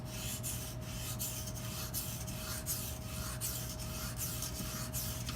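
An Edge Pro sharpening stone rubs slowly back and forth along a boning knife edge in repeated even strokes, a close, quiet abrasive scraping over a steady background hum.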